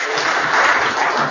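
An audience at an International Yoga Day 2023 event claps for Ashok Bhalla, a loud, dense, continuous burst of applause that fills the whole short moment.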